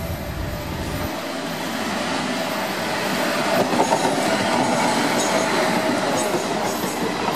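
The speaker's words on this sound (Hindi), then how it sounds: "ट्रेन चल पड़ी।" A crowded passenger train begins to roll, its steady rumble swelling with a rising clatter of wheels on rails and faint squeals, loud and continuous throughout with no voices.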